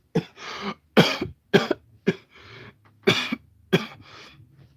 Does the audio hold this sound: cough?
yes